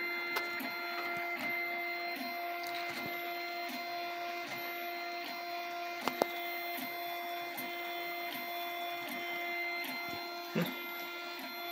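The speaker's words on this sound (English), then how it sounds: "Tool changer's working." A BLV MGN Cube 3D printer fitted with a BIQU Hermit Crab tool changer runs with a steady whine and tonal stepper-motor hum, punctuated by small clicks and a couple of brief knocks, quiet and close, no talk.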